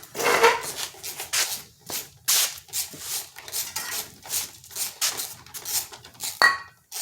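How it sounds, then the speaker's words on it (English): Metal parts from a lawn mower carburetor clink and scrape repeatedly as it is taken apart, close and fairly loud, in an irregular series of short knocks and rattles with no talking. "Let's go take that carburetor apart."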